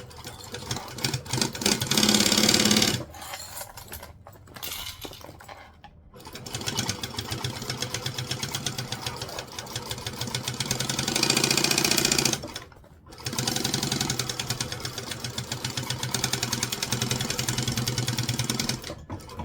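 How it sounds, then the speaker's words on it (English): A walking foot sewing machine stitches in loud, rapid mechanical bursts with a steady whirring hum and chattering needle, pausing briefly between several runs of stitching. "the beauty of this machine is I don't really have to push it through because it's a walking foot machine"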